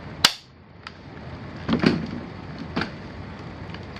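A 1909 Argentine Mauser rifle with a stuck safety gives a sharp metallic click, then a short cluster of bolt-working clacks and a fainter click, close by against a quiet background.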